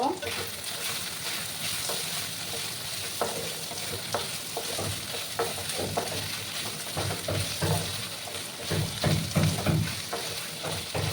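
Chopped onions sauté in a pan with a constant close sizzle, broken by frequent spatula scrapes and clatter as they are stirred.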